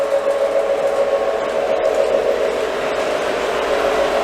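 A model Union Pacific passenger train runs on a museum diorama at a railroad museum, giving a steady whirring motor hum with a faint rolling rattle, continuous and fairly close, with no talk.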